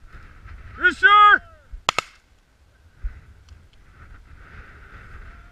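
During an outdoor pheasant hunt, a single sharp shotgun report cracks right after a harsh bird call, followed by a softer thump and light wind noise.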